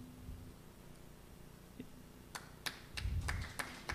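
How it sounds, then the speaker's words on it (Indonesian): Sparse, faint clapping from an audience at a university professor inauguration ceremony, a few scattered hand claps that build into a short cluster near the end in a quiet hall. "Hadirin mohon tepuk tangan."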